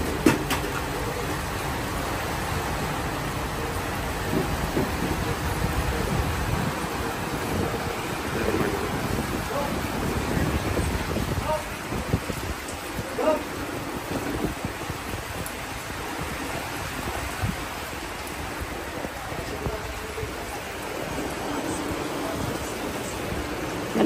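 Heavy rain pouring outdoors, a dense continuous rushing hiss buffeted by wind noise, loud and unbroken for the whole stretch with no voices.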